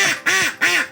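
Loud, close nasal quacks in three quick successive calls, each with a bending, warbling tone, most likely from a parrot imitating a duck.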